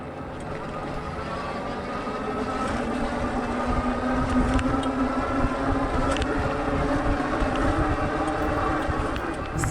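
Wallke H7 step-thru dual motor AWD e-bike climbing a hill from a dead stop on pedal assist 5, a low whirring motor drone rising gradually in pitch over heavy wind rumble, steady and close.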